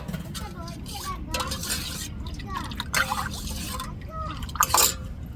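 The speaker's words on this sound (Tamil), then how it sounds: "அதில் தண்ணியை ஊற்றி நல்லா கலக்கிக்கிடுவோம்" Water is poured into half a litre of curd and stirred, giving wet sloshing with scattered spoon clinks and scrapes against the vessel; steady close kitchen handling noise throughout.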